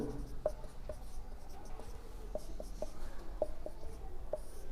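Chalk or marker writes on a board during a Hindi maths lesson on number systems, a steady run of short scratchy strokes and taps over a low room hum, with no speech.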